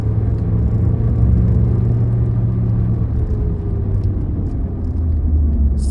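A 2009 Honda Civic 1.8 engine holds about 3500 rpm in fourth gear, a loud, steady, close drone with a slight rising tone and no talking over it.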